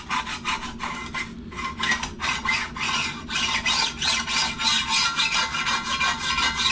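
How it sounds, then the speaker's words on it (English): A hand rasp is pushed in steady side-to-side strokes during a small-block Chevy 350 engine buildup. It makes a loud, continuous rhythmic scraping with regular stroke pulses and no talk over it. "Want to make sure this goes side to side. This is more of a rasp."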